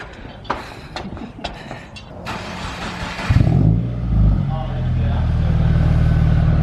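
Voices chatter over a quiet background, then a Subaru WRX engine with a newly fitted Invidia N1 Race Version exhaust cranks and catches with a deep, throaty burble and keeps idling loudly.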